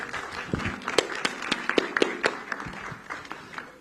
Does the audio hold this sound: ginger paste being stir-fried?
no